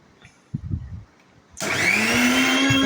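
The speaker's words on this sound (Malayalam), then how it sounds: "അതിൽ ഒരു പച്ചമുളകും ഇട്ട് രണ്ട് അല്ലി വെളുത്തുള്ളിയും കൂടെ ഇട്ടിട്ട് നന്നായിട്ടൊന്ന് അരച്ചെടുക്കുന്നുണ്ട്" An electric mixer grinder blending red amaranth leaves with a green chili and garlic cloves starts after a few soft knocks, then runs as a loud, steady, high whine to the end.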